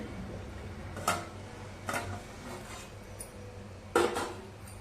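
A metal lid lifted off a pot of steamed bottle gourd vada mixture, giving a few separate clinks and clatters of metal against metal at moderate loudness over a low steady background hum.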